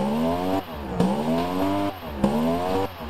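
A 1,400-horsepower ute with a 4.2-litre engine revs hard in a racing video game, its engine note climbing and dropping in about three sharp rev cycles, loud and up close.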